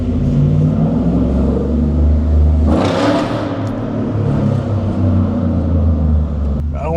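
A catless Ford F-150 single cab with a MagnaFlow muffler drones loud and steady, the exhaust swelling briefly mid-way as the engine revs, heard from close by.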